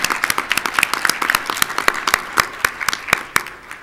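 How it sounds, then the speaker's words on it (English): A round of applause at a business meeting, many hands clapping in a dense, steady patter with sharper individual claps standing out, fairly close and continuous for several seconds, no voices over it. "I'd like to have another round of applause for all of our folks who are on the slate."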